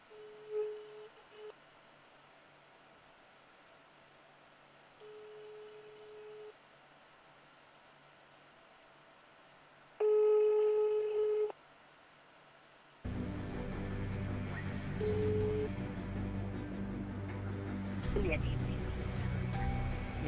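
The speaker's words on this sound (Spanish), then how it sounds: "Le estoy llamando por teléfono, señores." A telephone call in the game Dead Island gives repeated short steady tones with pauses between them, then a busy signal under loud game noise toward the end.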